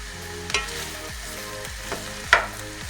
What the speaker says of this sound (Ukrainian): Поки смажиться наша капуста, підтушується